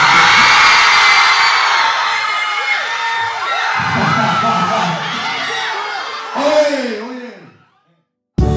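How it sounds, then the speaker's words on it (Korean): A crowd at a school graduation concert cheers, shouts and applauds for a performer. The noise is loud and continuous, with shrill cries rising over it, then it swells once more and dies away near the end. "박수 한번 쳐주세요."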